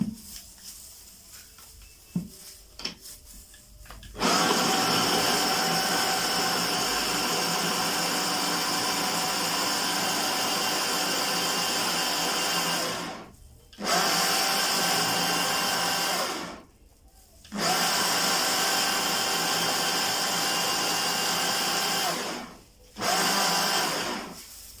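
Blender whirring loudly as it grinds spices for a chicken tikka marinade, a steady high motor roar that runs for long stretches, cutting out briefly three times before starting again, close and alone.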